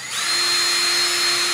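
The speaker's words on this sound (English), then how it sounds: "I'm going to come in and drill at 90 degrees to the wood until it just breaks that surface." Power drill boring straight into wood at a right angle, a loud continuous high whine held steady throughout, close up with no talking.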